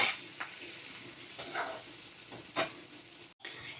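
Cut potato pieces dropped into hot oil in a pan for chicken curry, a steady sizzle with a few sharper bursts and clatters as the pieces land and settle, ending in a brief cut.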